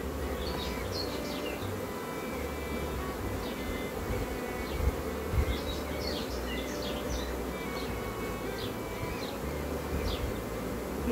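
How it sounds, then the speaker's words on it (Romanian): Honey bees from a small swarm buzz steadily over a frame, a dense continuous hum close up with faint birdsong in the background. "Aici avem albinuți."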